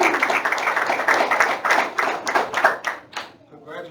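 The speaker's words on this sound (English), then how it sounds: "Let's give these ladies another round of applause." Audience applause at a school board meeting: dense, steady clapping from many hands that fills the room, then thins and tapers off near the end.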